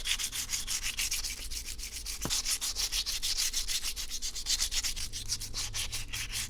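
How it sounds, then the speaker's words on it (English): Fast, rhythmic rubbing strokes of wet sandpaper on a hard terrazzo dish, close up and steady, continuing without pause and without voices. "Sanding also helps bring out the Terrazzo chips a little bit more."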